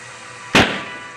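A short homemade boga cannon, customized for New Year's, fires once with a single loud, sharp bang that trails off into a brief echo.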